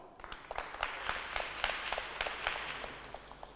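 Applause from a school audience greeting student ambassadors at a high-school awards ceremony, many hands clapping in a steady, moderately distant wash with scattered sharper claps throughout.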